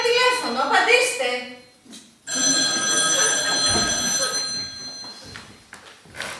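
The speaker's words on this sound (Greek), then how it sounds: "Α, σας παίρνει τηλέφωνο, απαντήστε." A telephone bell rings loudly and steadily for several seconds indoors, starting after a short stretch of talk and a brief pause.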